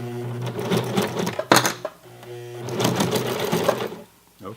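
A lower-end sewing machine stitches across the hem of Levi's 550 denim jeans with a size 18 needle, running in two steady whirring bursts separated by a short pause, with a sharp mechanical clunk between them.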